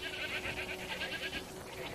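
A goat bleats in Crimson Desert, a wavering nasal cry repeated in quick pulses over roughly two seconds, fairly faint against a steady game background.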